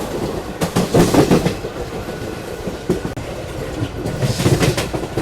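A train rolls through the Vadodara railway yard, wheels clattering in loud rhythmic bursts over rail joints and points, heard close from on board with no talk.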